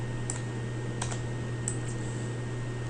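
Several sparse keystrokes tapped on a computer keyboard while entering values during an SQL lecture, three or four light clicks spread over a few seconds beneath a steady low hum.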